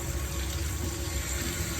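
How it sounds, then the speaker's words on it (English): Hot tap water runs steadily into a sink with Fairy washing up liquid added, a continuous close rushing fill with no pauses and no talk. "And let it fill up the water, hot water, right at the top, but not too hot."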